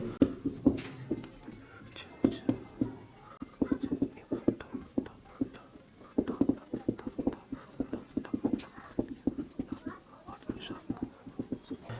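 Hindi notes written on a board and sped up, giving a fast stream of short, scratchy strokes in quick irregular bursts, fairly faint, with soft voice-like murmurs mixed in.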